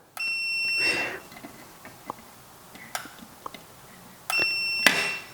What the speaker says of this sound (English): Hopefully we've got continuity on these still